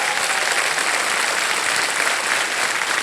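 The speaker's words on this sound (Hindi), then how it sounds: "आपको और तालियों के साथ इनका स्वागत।" A studio audience on the Kaun Banega Crorepati game show applauds, a dense, even wash of clapping sustained throughout at steady loudness.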